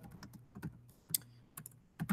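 Keys on a computer keyboard are tapped in quiet, irregular bursts of light clicks, close by, with short pauses between strokes and no talking.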